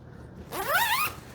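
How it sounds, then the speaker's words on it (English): The zipper on a Helikon-tex Swagman Roll is pulled along in one quick, close rasping run lasting about half a second, with quiet before it. "run this zipper all the way up"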